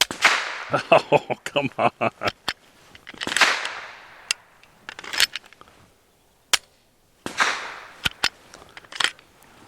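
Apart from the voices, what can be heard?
Adler Arms AD 9 gunshots firing Winchester Defense 147 grain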